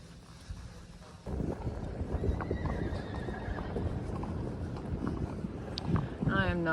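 A horse whinnies at an NBHA World Finals barrel-racing event, a loud neigh cutting in near the end over constant wind and movement noise, with hoof clops nearby and people talking.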